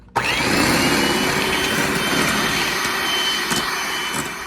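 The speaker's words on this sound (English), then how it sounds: "I'm just going to use my little hand mixer." A small electric hand mixer beating egg yolks starts abruptly and runs as a steady loud whirring motor drone with slight wavering and faint clicks of the beaters against the bowl; no talking.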